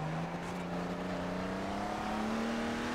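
Old Aston Martin race car in a racing video game, its engine droning with a steadily rising pitch as it accelerates, heard alone at moderate loudness.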